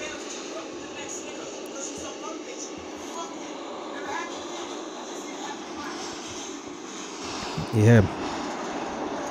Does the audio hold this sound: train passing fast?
yes